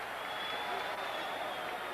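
Boxing arena crowd at the James Toney versus John Ruiz fight, a broad, continuous wash of cheering and applause from a large audience, steady and fairly loud throughout.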